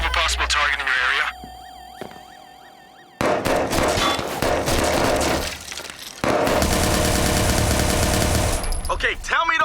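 Gunfire in the video game Watch Dogs 2: loud bursts of rapid shots and crackling impacts, mixed with game music, radio chatter and voices.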